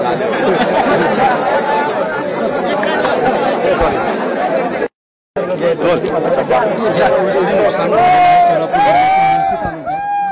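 A large crowd of villagers chatters in a dense, loud outdoor babble of many voices, with a sudden brief gap midway and rising, sharper voices near the end.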